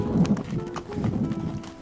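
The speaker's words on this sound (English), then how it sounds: "riding horses above the city of Cuzco" Horse hooves clip-clop in a quick, uneven rhythm during a ride on a hillside above Cusco, Peru, fairly close and loud with soft outdoor ambience behind.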